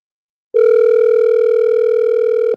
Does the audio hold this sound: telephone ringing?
yes